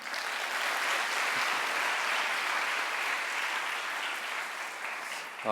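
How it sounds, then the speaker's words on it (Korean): Sustained applause from a chapel congregation at a Korean Baptist seminary, welcoming a preacher to the pulpit, steady and dense throughout with a brief voice rising at the very end. "나오실 때 박수로 환영하십시다"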